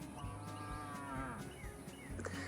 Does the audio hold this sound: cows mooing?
yes